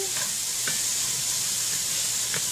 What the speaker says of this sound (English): I've got a medium chopped onion sauteing in the pan